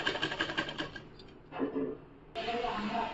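A domestic sewing machine stitches the lining and sleeve of a blouse in quick bursts of rhythmic mechanical clatter, pausing briefly in the middle, with faint speech in the background.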